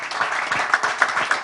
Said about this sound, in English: those who are our players, a big round of applause for them.